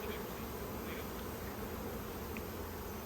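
A honeybee swarm drones in a dense, steady buzz around a hive, a continuous wall of overlapping wingbeats at close range with no pauses and no voices.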